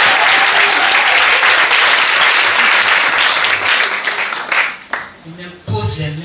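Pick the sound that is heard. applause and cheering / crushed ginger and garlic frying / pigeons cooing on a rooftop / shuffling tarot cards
applause and cheering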